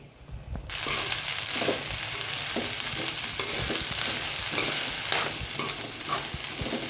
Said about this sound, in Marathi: वाटण भाजून झाले आता ह्याच्यात टाकते मी भेंडी